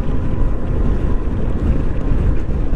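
Engine of a 2017 Honda PCX 125 scooter on a test ride, a steady low drone mixed with heavy wind rush against the microphone, loud and continuous with no talk.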